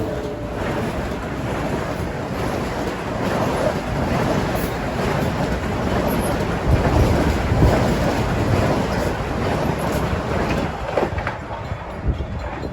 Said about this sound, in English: That's train 2066 from New York to Ronkonkoma